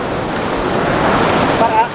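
Ocean waves breaking on a beach, a loud continuous roar of surf and rushing water close by with wind buffeting the microphone.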